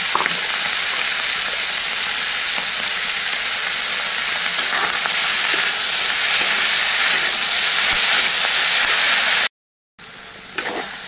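Fish roe and eggplant fry in a pan with a steady loud sizzling hiss that runs on with faint pops and clinks, breaking off briefly near the end.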